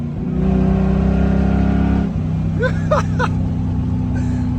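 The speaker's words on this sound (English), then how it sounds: "have you ever heard a Range Rover sound like that?" A 1989 Range Rover Classic with a 3.9 V8 and modified exhaust revs hard to about 4,000 RPM, with a loud sustained roar that drops abruptly into a lower burble. Whoops and voices cut in over it near the end.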